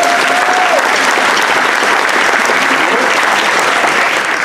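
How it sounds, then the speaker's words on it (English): An audience at a bluegrass show gives Remington Ride a steady round of applause, dense hand clapping that stays loud and even throughout, with faint crowd murmur underneath. "let's have a big round of applause for Remington Ride."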